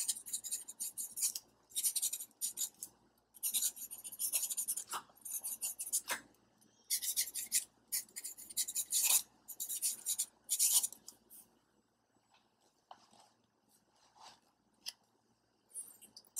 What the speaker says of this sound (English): And you can hear the feedback. Because it's very, very fine, extra fine nib